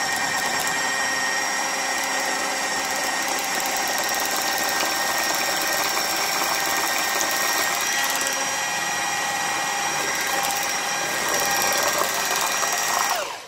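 A kitchen mixer whirs steadily at low speed while beating cottage cheese, a constant close motor drone with a high whine that holds for the whole stretch before cutting off at the end, with no talking.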